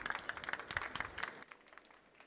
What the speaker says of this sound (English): here's your applause